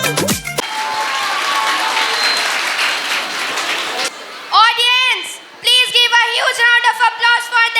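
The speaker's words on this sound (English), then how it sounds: "Applause for them." Audience applause at a school prize distribution ceremony, a broad steady clapping that runs about four seconds, then gives way to loud amplified speech.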